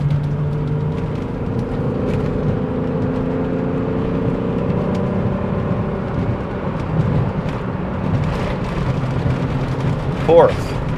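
A VR6 Volkswagen Corrado engine pulling through the gears on a road after an ECU software swap, a steady loud cabin drone with rising and falling tones as revs climb and shift.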